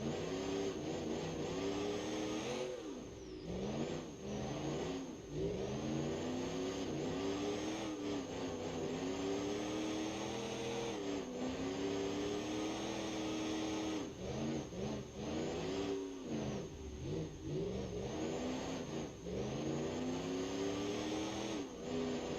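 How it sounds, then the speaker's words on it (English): A stock V8 diesel engine with twin turbos in BeamNG.Drive on a monster truck revs up and down repeatedly, a loud continuous growl with rising and falling pitch and no talking. "I like the sound of the stock in-game V8 diesel."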